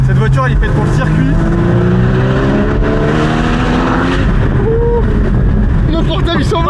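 A Porsche built for circuit use drives nearby, its engine note climbing steadily as it accelerates, loud and continuous beneath a man's speech.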